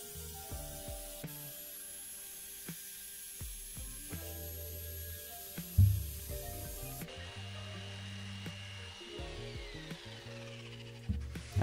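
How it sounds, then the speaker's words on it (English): A jigsaw fitted with a metal-cutting blade saws through a folding workbench shelf, a steady buzzing cut with brief stops and restarts, close and fairly quiet, no talking. "to cut it out, I used a jigsaw with a metal cutting blade."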